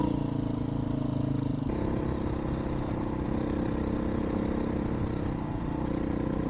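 A road-legal Beta dirt bike engine drones steadily at close range while riding, a constant rough, clattering mid-pitched rumble with a slight shift in tone partway through.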